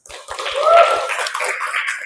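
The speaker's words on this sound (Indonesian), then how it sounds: "Tepuk tangan dulu buat kita." Classroom applause from students, a burst of clapping that swells near the start and carries on steadily for about two seconds, with a few low thumps at the outset.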